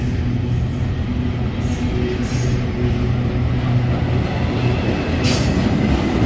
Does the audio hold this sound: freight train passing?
yes